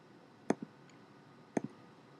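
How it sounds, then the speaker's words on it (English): Two quick double clicks of a computer mouse, each a sharp pair of close taps, about a second apart in a quiet room. "just double click it."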